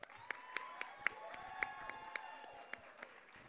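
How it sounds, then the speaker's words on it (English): Audience at a student-run talent showcase applauding the student performers: scattered claps and a few sharp peaks over a steady crowd wash, with faint ringing tones underneath and no talk. "just a round of applause for all of them as well"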